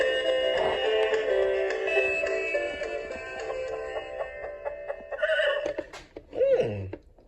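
A horse neighs from a farm scene in a children's toy or cartoon setting, a drawn-out whinny over a steady musical backdrop, with a brief clip-clop of hooves.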